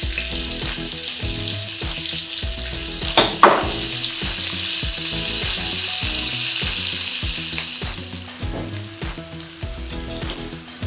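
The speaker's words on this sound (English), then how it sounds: "you can now add your onions first before the garlic" Onions frying in a pan for vegetable rice, a loud steady sizzle close by with scraping stirring noises throughout.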